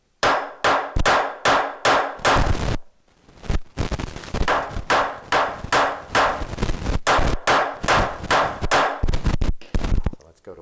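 A small hammer shapes a saxophone key spring in quick, sharp metallic taps, delivered in two rhythmic bursts separated by a brief pause, close and loud with no talking.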